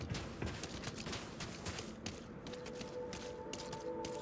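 Dense, continuous gunfire from the space game Starfield, rapid overlapping shots and impacts forming a steady barrage with no speech.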